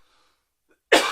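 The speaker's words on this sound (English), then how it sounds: "I hate those coughs. Oh, that was a bad one." One sharp, loud cough bursts out abruptly after near silence, close to the listener.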